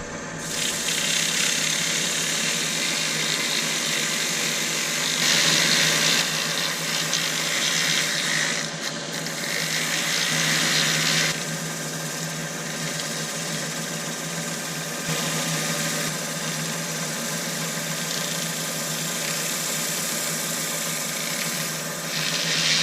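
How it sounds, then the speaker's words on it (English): Sandpaper presses against a silver birch vase spinning on a wood lathe, giving a loud, continuous rushing hiss over the motor's steady hum, with slight swells as the pressure shifts. "So let's give it a little sand up and see what it looks like"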